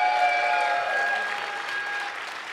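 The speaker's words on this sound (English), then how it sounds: "please clap" Audience at a live EVE Online Fanfest 2009 PvP tournament event clapping steadily in a dense, sustained wash of applause that slowly fades, with a faint voice over it.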